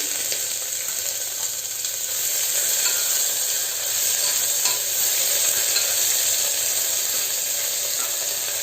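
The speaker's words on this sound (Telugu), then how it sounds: "తర్వాత అల్లం వెల్లుల్లి పేస్ట్ వేస్తున్నానండి కొంచెము" Ginger garlic paste and cumin seeds fry in a pan of hot oil for soya chunk biryani, giving a steady, close sizzle with faint stirring scrapes throughout, and no voices.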